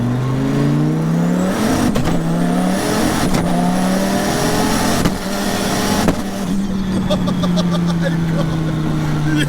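A 2000hp twin-turbo 8.4-litre V10 Dodge Viper with a sequential gearbox accelerates hard, its engine note climbing steadily through gears with brief shift breaks, loud and close throughout with wind and road roar.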